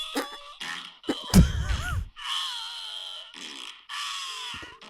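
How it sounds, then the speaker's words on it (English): Fart noises, a loud spluttering burst followed by several stretched, squeaky blasts of varying length, up close. "Yeah, it's fart noises."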